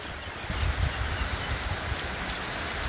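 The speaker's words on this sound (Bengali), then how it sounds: "অনেক বৃষ্টি হচ্ছে" Heavy rain pours onto a rooftop as a dense, steady hiss of drops that stays constant throughout, with no one speaking.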